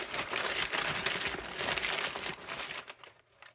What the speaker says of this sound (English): So I'm just going to take this paper and we're just going to loosely cover it.